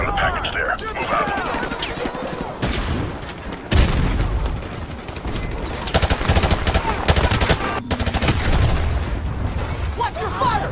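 Heavy machine-gun bursts and explosions in a Modern Warfare video game firefight, loud and sustained, with soldiers shouting over the shooting.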